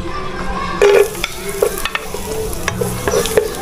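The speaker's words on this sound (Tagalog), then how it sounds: "haluhaluhin lang po natin ang ating bawang" Chopped garlic being stirred in a hot pan as it fries for a Filipino biringhi dish, with a steady close sizzle broken by scraping spatula strokes; no talking.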